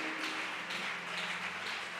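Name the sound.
congregation applause in church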